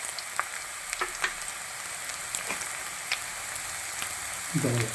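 Garlic and ginger fry in hot oil for a Kerala prawn roast, a steady close sizzle with crackling pops throughout and a brief stirring scrape near the end.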